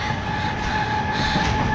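A local passenger train runs past in a steady, loud rolling rumble with a sustained metallic whine over it, continuous throughout with no voices.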